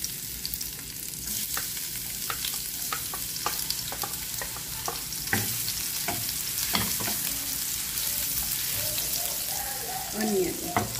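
Garlic sizzles in a pan alongside ginger as a squid and tomato dish begins: a continuous, close, crackling fry with stirring clicks and scrapes throughout, and a soft voice near the end.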